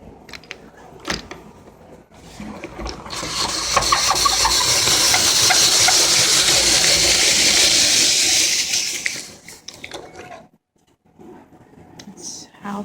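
A hand-cranked kitchen device for making apple pie whirs steadily for several seconds as it is turned, a continuous loud mechanical rush that stops abruptly, with brief clicks before and after.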